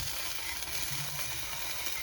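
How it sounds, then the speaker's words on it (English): Faint, steady sizzling of onion gravy bubbling over in a hot skillet, a soft continuous hiss with no talking. "Sorry for the noise, but that's the gravy kind of spilling over."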